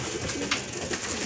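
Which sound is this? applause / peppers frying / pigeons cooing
pigeons cooing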